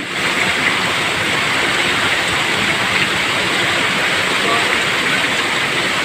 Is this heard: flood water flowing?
yes